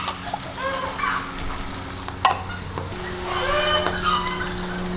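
Lengua being stirred into a hot mushroom sauce broth in a home kitchen, with a steady close sizzle and scraping stir sounds and a faint watery slosh running through the whole stretch.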